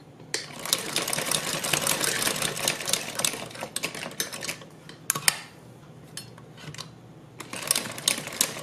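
Sewing machine stitching through stiff buckram, bursts of fast rattling clatter separated by pauses, fairly close and moderately loud.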